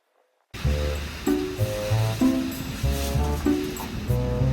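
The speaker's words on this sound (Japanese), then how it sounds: "急にめちゃくちゃ雨が降ってきました。" A sudden downpour of heavy rain starts abruptly after near silence, a loud, dense, steady hiss that holds without a break, with low tonal sounds running beneath it, during outdoor repair work on a Nissan 180SX dashboard.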